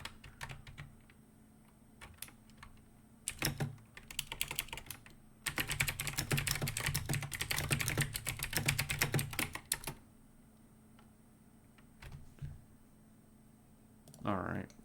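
Bursts of computer keyboard typing, a short flurry near the start followed by a longer dense run of rapid clacking keys, close and crisp against a quiet background with a few isolated clicks after.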